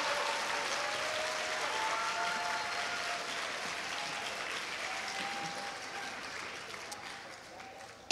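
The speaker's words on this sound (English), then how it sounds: "Can we all just give them another round of applause for that amazing opening selection?" An audience at an elementary school fifth grade promotion ceremony claps steadily in a large room, a dense sustained wash of applause that slowly fades toward the end.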